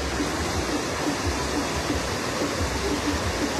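Water pours over the spillway of the large Araras reservoir dam in a steady, dense roar, a constant broadband rush with no pauses, close and loud throughout.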